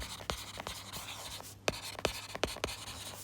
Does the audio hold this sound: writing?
yes